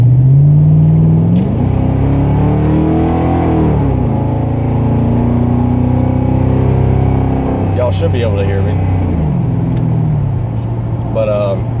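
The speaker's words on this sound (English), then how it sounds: "I cut off the rear cats on the Lincoln, so that's why it's a lot louder" A Lincoln car with its rear catalytic converters cut off and replaced by flexible exhaust pipe drives with a loud, deep exhaust drone that rises and falls as it accelerates, heard from inside the car while someone talks over it.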